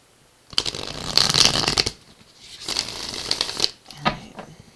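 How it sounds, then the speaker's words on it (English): Tarot cards are riffled and shuffled in three quick bursts of crisp, rapid fluttering and slapping, close up, with short pauses between. "Last shuffle here and we'll get started."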